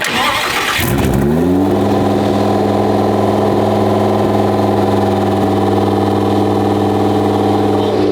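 A twin-turbo Lamborghini V10 race car engine fires up with a brief roar, then settles into a loud, steady, rumbling idle at 2,400 RPM.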